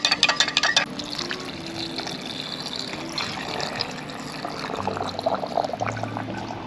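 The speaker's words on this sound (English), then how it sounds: "And then we're just gonna pour this over the top of our pear scraps." Warm sugar water is poured over pear scraps to start homemade pear vinegar, a close, steady trickling pour that gushes and splashes for several seconds with small clinks at the start.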